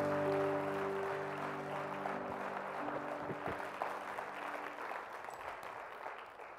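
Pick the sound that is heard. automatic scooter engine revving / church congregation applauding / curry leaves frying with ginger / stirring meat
church congregation applauding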